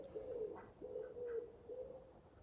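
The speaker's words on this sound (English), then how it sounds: "So I think wood pigeon does something like 4 coos, when the normal pigeons only do 3. You see the coos again." A wood pigeon in woodland coos in a short series of soft, low, hollow notes, faint and distant, with some faint higher bird chirps behind it.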